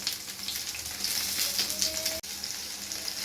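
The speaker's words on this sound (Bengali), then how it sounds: "আমাদের এখানে সব কটা বড়া দেওয়া হয়ে গেছে সুন্দর করে আর এটা এখন ভাজা হবে" Lentil fritters (bora) fry in hot oil with a close, even crackling sizzle that runs continuously, broken only by a brief dropout, and no talking.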